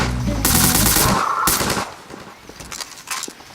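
Machine gun fire in Garry's Mod, two loud sustained bursts of rapid shots close up, followed by quieter scattered impacts and faint distant pops.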